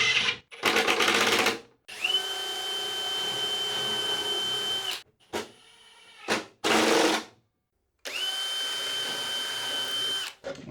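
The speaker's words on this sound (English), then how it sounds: "I'm just going to drill pilot holes through and drive 1 1/4 inch screws in to fix it" Power drill driving 1 1/4 inch screws through pilot holes into a panel on a workshop miter saw station; close, loud bursts of motor whine, two long steady runs and several short spurts, with no talking.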